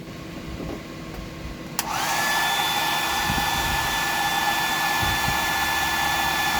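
After a quiet moment, a hair dryer switches on close by and blows a steady, loud whine of air to dry a painted deep-diver fishing lure.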